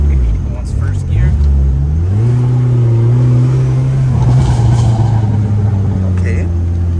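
Tuned Volkswagen GTI engine pulling in first gear, a loud close rumble climbing steadily in pitch then holding, with voices talking over it.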